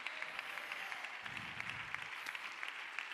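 A church congregation applauds at a Spanish-language Sunday school service, a sustained wash of clapping from many hands with a voice faintly underneath.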